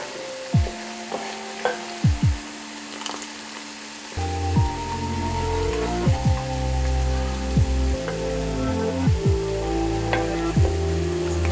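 Homemade coconut hair oil bubbling and sizzling in a pan as it heats, a steady close frying hiss with scattered sharp pops and tapping clicks, loud and continuous, with no talk.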